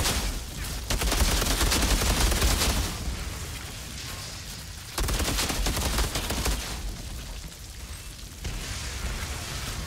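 Gunfire from a gun in the shooter game Outriders, loud sustained bursts of rapid shots in two long volleys with brief lulls between them, dense and close with no talk.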